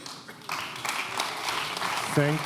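Audience applause rises at a start-up award ceremony during a circular economy festival as a director is welcomed on stage, steady clapping that swells after a moment, with a voice speaking briefly near the end.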